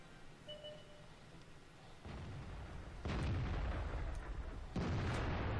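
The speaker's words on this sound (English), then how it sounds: "I didn't realize I was spotted, but the artillery killed me." Artillery shells from a self-propelled gun strike a player's tank in World of Tanks, with heavy booming impacts landing in succession, each blast louder than the last, with no talking.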